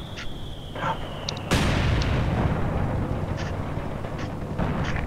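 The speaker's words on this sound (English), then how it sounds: "Artillery on our side." Artillery fire in the Company of Heroes 2 video game: a sudden heavy blast lands partway in, followed by a sustained roaring rumble with scattered fainter pops, loud and fairly close.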